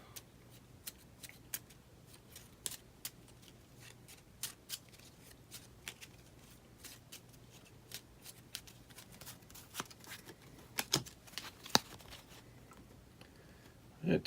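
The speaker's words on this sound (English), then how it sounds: "Aragorn will shuffle his deck and look at 3 cards." A deck of cards for the Lord of the Rings Journeys in Middle-earth board game is shuffled, producing soft, quick riffling clicks and taps, faint and close against a quiet room.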